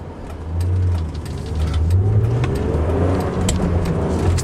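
A BMW Z3 roadster on 16-inch wheels, driving on a road: a close, loud engine note climbs as the car accelerates and revs, with steady road and wind noise underneath.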